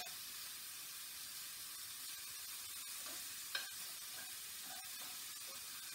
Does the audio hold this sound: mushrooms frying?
yes